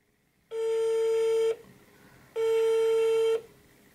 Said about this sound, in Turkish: meşgul attı gördüğünüz gibi Maşa